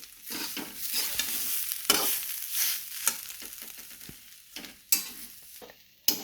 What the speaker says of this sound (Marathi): असा कलर बदलेपर्यंत भाजायचं आहे खोबरं